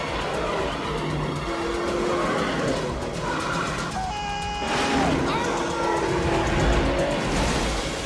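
A car speeds past during a chase scene in the Bad Boys film, its engine and tyres loud and close amid busy film sound effects and music.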